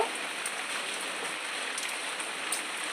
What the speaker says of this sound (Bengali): দেখুন বৃষ্টি নেমে পড়েছে